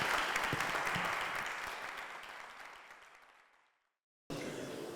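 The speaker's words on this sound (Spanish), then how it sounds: "voy a pedir un doble aplauso" A large audience at a human rights gathering in an Argentine school claps loudly, then the applause thins and fades to silence before a fresh burst of clapping starts.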